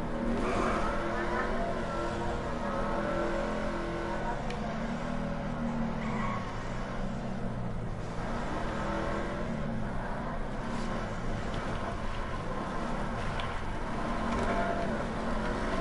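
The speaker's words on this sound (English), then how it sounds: "We had a revving contest." A car engine revs repeatedly in a contest alongside another vehicle, its pitch rising and falling in continuous waves, loud and close throughout with no talking.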